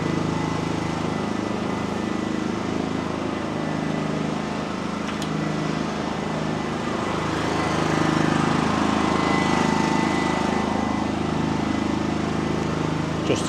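A welding generator engine running outdoors gives a loud, steady droning hum that carries on without a break from start to finish.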